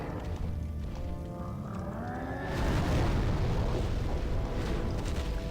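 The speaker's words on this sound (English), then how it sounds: "Come on, do your explosion." A boss in Demon's Souls, the European release, unleashes an explosion attack: a loud, sustained roaring blast that erupts about halfway through and rumbles on to the end, following a rising whine.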